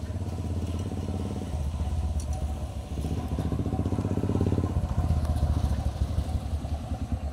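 A motorcycle engine idles and revs nearby, a steady throbbing putter that rises and falls in pitch, with some clatter.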